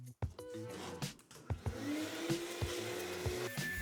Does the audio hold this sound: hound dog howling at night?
no